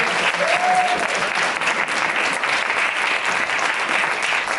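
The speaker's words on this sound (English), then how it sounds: "can we give a little round of applause for Jen over here?" Loud, dense applause from a panel audience greeting a new library director, a continuous roar of many hands clapping at an even level from start to finish, with a brief whistle-like tone early on.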